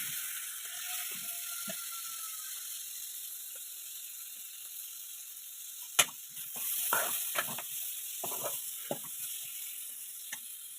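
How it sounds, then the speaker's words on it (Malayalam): Tomatoes sauté in a pan for a fish curry, a soft steady sizzle broken later by scraping stirs and a few sharp clicks of a spoon against the pan. "തക്കാളി ഇട്ട് നല്ല ഒന്ന് വഴറ്റി കൊടുക്കുക."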